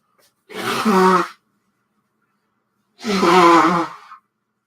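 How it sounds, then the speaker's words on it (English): Two loud, long nose blows about two seconds apart, close up, with silence between. "I have to blow my nose really bad"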